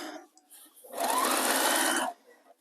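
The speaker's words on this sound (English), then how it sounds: "I'm probably going to stitch over this part because it's just all over" A sewing machine stitching through a bulky fabric cover, running in one loud, steady burst of about a second, with a person talking briefly before it.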